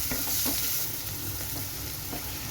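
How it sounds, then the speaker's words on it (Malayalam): Sliced onions sizzling in hot oil in a pan while a spoon stirs them, a loud continuous fry with a few scraping stir strokes, close and with no voices. "നമ്മുടെ ഈ സവാളയൊക്കെ ഒന്ന് വഴന്ന് വരുന്നത് വരെ നമുക്കൊന്ന് ഇളക്കി കൊടുക്കാം"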